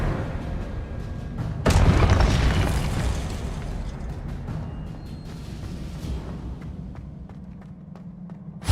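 An Expelliarmus spell cast in Hogwarts Legacy on PS5 lands as a sudden loud burst, a booming magical blast that flares sharply and then decays into a rumbling wash with scattered crackles.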